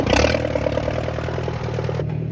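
A tractor engine idles and rumbles steadily up close while backing a boat on a trailer into a barn, with a low mechanical clatter and no talking.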